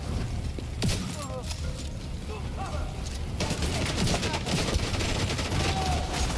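Rapid gunfire from enemy turrets in The Division 2, a steady stream of shots running through the whole stretch, sharper bursts near the start and midway, with a voice talking over it at times.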